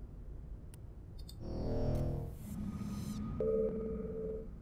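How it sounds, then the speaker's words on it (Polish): An automatic distress beacon signal in Mass Effect: a few clicks, then a wavering electronic tone, a rising warble and a steady pulsing beep over a low background hum. "Komandorze, odbieram sygnał z powierzchni planety. To chyba automatyczny nadajnik ratunkowy."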